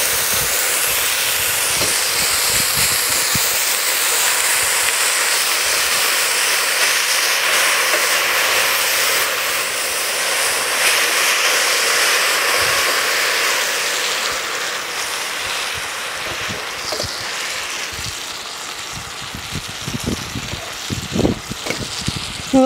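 Onions sizzling and hissing in a hot pot as they are stirred, a steady loud fry with scattered scraping clicks near the end, no talking.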